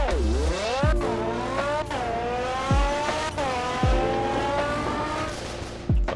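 A Ford Fiesta drag car in Roblox revs steadily with rising engine pitch, broken by several sharp shift drops and a continuous game engine drone throughout.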